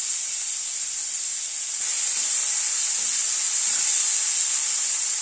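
Chopped large onion frying in oil on a medium gas flame, a steady bright sizzling hiss that continues throughout and grows slightly louder, heard close with no voices.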